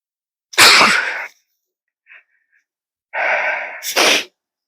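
Two sharp, close sneezes separated by a pause, the second preceded by a drawn-in breath.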